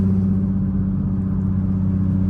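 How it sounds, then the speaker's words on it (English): Steady mid-pitched engine hum and low rumble from a Nissan Z on its first test drive after repairs and new wheels, heard from inside the car at an even level with no talking. "First test drive on the Z with everything. It's driving good, every gear."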